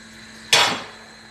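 While honey sauce is mixed in a bowl, a spoon gives a single sharp clink against the dish, loud and close, ringing briefly before fading into quiet.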